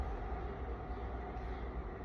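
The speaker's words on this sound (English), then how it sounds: "sorry for the train noise" A passing train produces a steady low rumble and rolling rail noise, continuous and fairly loud throughout, with no talking.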